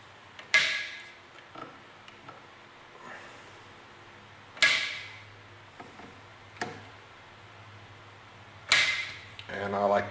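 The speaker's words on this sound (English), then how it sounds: "So we're going to start in the middle and we're just going to torque it over." A Wheeler Fat Wrench being set to 20 foot-pounds while tightening rifle scope screws on a Nikon M-308 scope, with three sharp, close clicks spaced about four seconds apart and fainter small taps between them.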